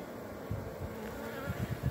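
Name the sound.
swarm of honeybees buzzing, marching into a hive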